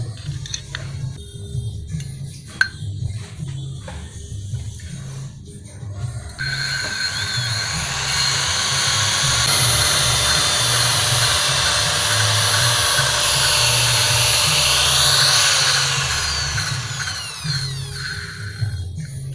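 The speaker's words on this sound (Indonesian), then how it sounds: "Kalau pakai bor nggak usah lama-lama sekirnya, nanti klapnya malah tipis." Power drill spinning to lap an engine valve, starting with scattered clicks and scraping, then a loud steady high whine that runs continuously for most of the clip before tapering off.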